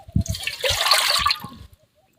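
Water pours into a pot in a steady splashing rush for about a second, then cuts off abruptly, leaving silence, while making rice papad.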